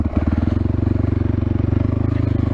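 A 2021 Kovi Lite motorcycle with a 300cc big-bore engine idles close by, a steady low throbbing rumble with even rapid pulses throughout, no talk.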